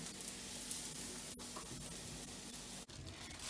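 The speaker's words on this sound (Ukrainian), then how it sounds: "Цибульку висмажуємо до золотисто-бурштинового кольору, але не забуваємо про морквичку." Onion and carrot frying in a pan, giving a steady, close sizzle with broadband crackle and no talk over it.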